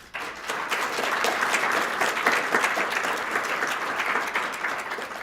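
Luncheon audience at a chamber of commerce annual review breaks into sustained, even applause, a dense crowd of clapping hands heard alone for about five seconds.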